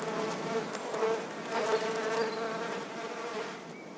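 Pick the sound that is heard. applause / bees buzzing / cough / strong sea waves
bees buzzing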